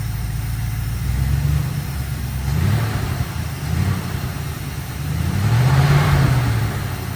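The engine of a 1972 Dodge W200 Power Wagon revs during its first start in years. The loud, low rumble rises and falls in several throttle blips, with one longer swell near the end.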